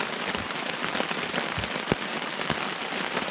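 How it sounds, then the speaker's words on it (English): Rain patters on a surface at a winter riverside kayak camp on the Current River, a dense close hiss with sharper individual drops tapping throughout, no talking. "It's raining pretty good."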